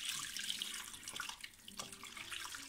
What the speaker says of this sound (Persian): آب اضافه میکنیم